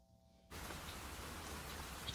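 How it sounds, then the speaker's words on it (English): Steady rain hisses in after a half-second of near silence, an even wash of falling drops with no voices. "Well, we got the rain."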